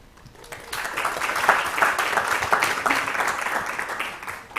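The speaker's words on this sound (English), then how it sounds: "Let's give a big round of applause for all the students, coordinators, and professors in Cohort 16 of SCET." An audience at a university startup pitch event breaks into applause for students and professors, a dense, loud wash of clapping that rises quickly and holds steady.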